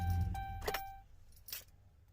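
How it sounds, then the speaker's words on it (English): A RAM 1500 pickup fitted with an aftermarket tuner being switched off, with a key-jangle rattle, a couple of short electronic tones and a low engine rumble that fades in about two seconds. "Let's turn the truck off right now."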